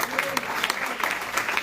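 Worshippers at a church service clap together in a strong burst of applause, rhythmic uneven claps close and fairly loud.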